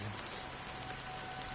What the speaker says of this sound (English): as it's raining, you can see the droplets hitting her umbrella and his hat.